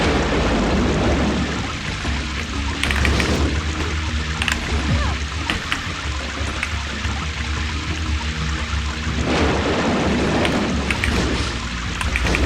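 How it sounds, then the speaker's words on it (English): High wind howls through the Storm Valley level of the Macintosh platform game Ferazel's Wand, a dense, constant roaring rush that stays loud and unbroken throughout, swelling slightly in places with faint crackles on top. "it's windy here and Ferazel is being constantly blown backwards by the wind"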